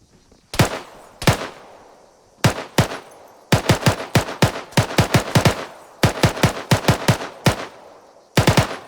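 Gunfire in the military shooter game ArmA 3 during squad training, with bursts of automatic fire and single shots cracking loud and close in irregular clusters, sounding without talk.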